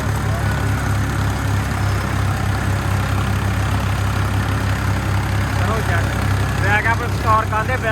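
A tractor engine runs steadily at a loud, close, throbbing idle with a constant low rhythmic pulse throughout, and some chirping or squeaky sounds toward the end.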